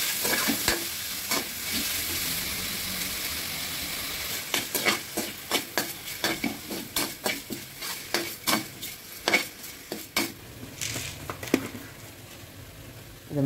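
Mutton sizzling in groundnut oil with cumin, cinnamon, fennel and green chillies in a hot kadai while being stirred, with repeated scraping knocks of a spoon growing busier over time, close up.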